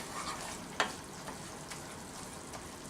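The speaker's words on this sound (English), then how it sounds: "So let's stir this up." Thick gravy for pork steaks is stirred in a pan, giving a quiet, steady bubbling sizzle with a single sharp scrape near the start and a few softer stirring sounds after.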